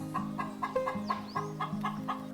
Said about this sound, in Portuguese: O outro galo ameraucano ainda está por aqui